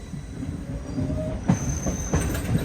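A DEMU train pulls out of Secunderabad station, its wheels clacking over rail joints in a few loud knocks and squeals above a steady rolling rumble, heard close from on board.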